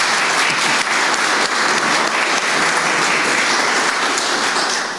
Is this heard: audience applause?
yes